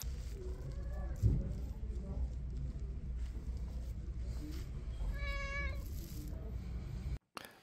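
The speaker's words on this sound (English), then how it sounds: "arrived at my Airbnb and was greeted by this very nice cat." A friendly cat greeting someone arriving at a Paris rental lets out a couple of drawn-out meows over a low, steady background rumble.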